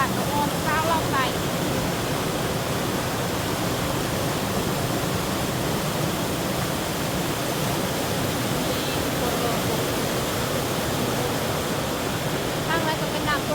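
A waterfall on a forest stream gives a steady, broad rushing roar throughout, constant and fairly loud, with a few faint higher chirps over it.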